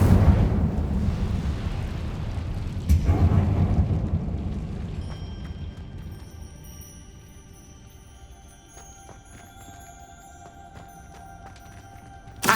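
Casting the Incendio fire spell in the video game Hogwarts Legacy sets off a deep, roaring burst of flame that fades over a few seconds, then gives way to a thin, sparkling magical shimmer.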